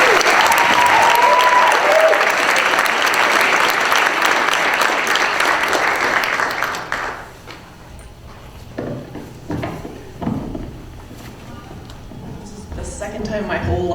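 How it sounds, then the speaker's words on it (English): A crowd claps at a 2016 award ceremony honoring an educator of the year. The applause is loud and dense for about seven seconds, then stops abruptly and gives way to quieter room noise and a few faint sounds. "Please give Jennifer a round of applause"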